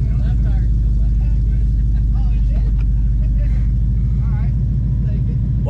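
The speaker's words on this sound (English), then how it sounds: "Burnouts, dude." Race truck doing burnouts, its engine roaring loudly and steadily at high revs throughout, with people talking and shouting excitedly over it.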